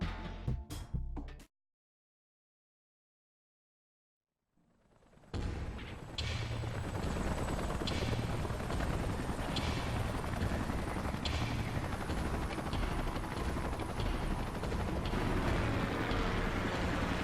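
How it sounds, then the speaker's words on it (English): Salvage helicopters in the game Xenoblade Chronicles X arrive after a brief silence, their rotors swelling into a loud, continuous, whirring drone with a chopping pulse that holds steady to the end. "Let's call in the salvage choppers and get it out of here."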